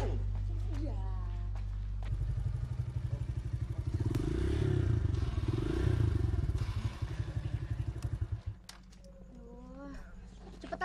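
A motorbike ridden under a heavy load, its engine chugging in a steady rapid pulse that grows louder then drops away, with voices speaking before and after.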